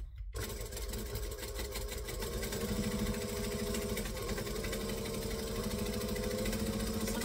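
A sewing machine runs continuously while stitching the bottom of a craft tote, a close, even mechanical whir with rapid needle ticking throughout and no pauses.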